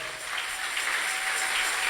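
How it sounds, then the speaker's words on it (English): A congregation claps at a church service, producing a steady, dense wash of hands that holds evenly for a couple of seconds at moderate volume, with no talking on top. "Oh, you can clap your hands, people."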